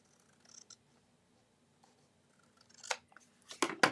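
Scissors trimming patterned paper for a handmade card, a few faint snips early on, then louder, crisp cutting strokes near the end against a quiet room.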